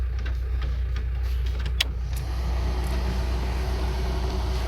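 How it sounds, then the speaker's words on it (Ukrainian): A car sits idling to warm up on a snowy, rainy morning, giving a low, steady engine hum with a few faint clicks and ticks over it and no talking. "Зараз ось прогріваю авто"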